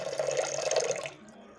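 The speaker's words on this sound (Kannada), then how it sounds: "ನಾನು ಇವತ್ತು ಒಂದು ಕುಕ್ಕರಲ್ಲಿ ಫಸ್ಟು ಒಂದು ಎರಡು ಕಪ್ ಆಗೋಷ್ಟು ನೀರು" Water poured from a vessel into a pressure cooker, a steady splashing gurgle that runs for about a second, then stops abruptly, leaving quiet room tone.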